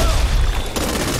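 Loud, dense gunfire fills the zombie shooter Back 4 Blood, a continuous blast of shots with no pause throughout.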